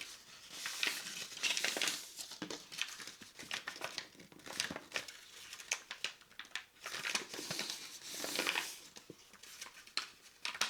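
A sheet of origami paper is pressed flat and creased while a small magic ball is folded, producing quiet, close crinkling and rustling in irregular bursts.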